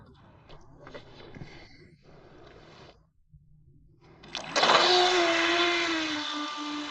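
A small RC speedboat's electric motor revs up to full throttle, a loud steady high whine that rises sharply and holds, following a stretch of low rumble and shuffling.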